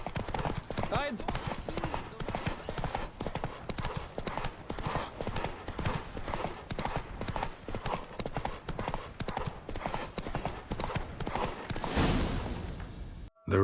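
Hoofbeats from a galloping horse in a Witcher 3 race drum on in a quick, continuous rhythm for the whole stretch, up close and loud, with voices calling out over them before a brief swell of other noise at the end.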